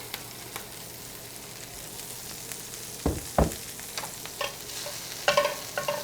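Broccoli rabe sautéing in oil in a pan for soba noodles with spicy broccoli rabe, a quiet steady sizzle broken by a few louder stirring scrapes and clatters near the middle and end.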